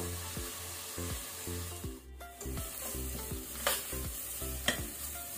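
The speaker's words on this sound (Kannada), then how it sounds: "ಇದನ್ನೀಗ ನಾವು ಮೀಡಿಯಂ ಟು ಹೈ ಫ್ಲೇಮ್ ಅಲ್ಲಿ ಕಲರ್ ಚೇಂಜ್ ಆಗೋ ತನಕ ಬ್ರೌನ್ ಆಗೋ ತನಕ ಫ್ರೈ ಮಾಡ್ಕೊಳ್ಬೇಕು" Onions frying on a medium to high flame for a chicken brinjal curry give a steady close sizzle, with repeated scraping stir strokes about every half second.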